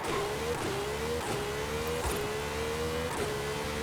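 A drift car launching off the line in Forza Horizon 5, its engine loud and close, revving up through several quick gear changes with a rising pitch that drops at each shift.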